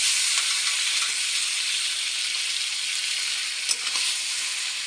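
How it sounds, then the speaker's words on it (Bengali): Marinated chicken poured into hot oil with browned onions in a pan, a loud, steady broadband sizzle that holds throughout, with a brief clatter of stirring near the end. "এবার এর মধ্যে ম্যারিনেট করা মাংসটা আমি ঢেলে দিচ্ছি।"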